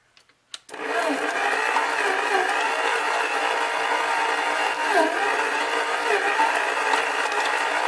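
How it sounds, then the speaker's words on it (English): A Hamilton Beach electric mixer creams butter for a Barbie birthday cake, starting with a couple of clicks and then whirring at a steady, loud, continuous pitch for several seconds with no talking. "I'm going to start to cream my butter"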